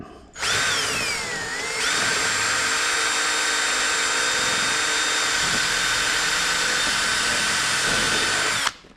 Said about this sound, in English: so what I'm going to do is drill it